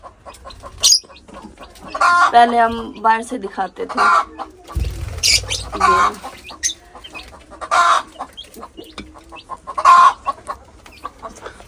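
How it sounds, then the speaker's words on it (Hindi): A hen cackles loudly after laying an egg, giving repeated bursts of squawking clucks, close and insistent, while someone talks over the noise. "मुर्गी ने अंडा दिया है। अंडा दिया तो उसका चुप तो कर जाओ। अंडा देने के बाद ऐसे शोर मचाती हैं ये।"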